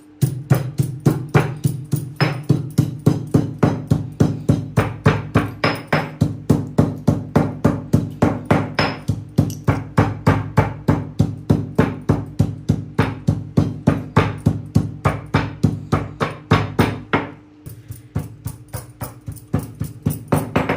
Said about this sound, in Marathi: आता हे बारीक चेचून घ्यायचं.